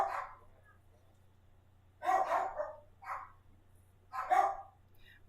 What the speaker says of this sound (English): Once one barks, the other has to follow along.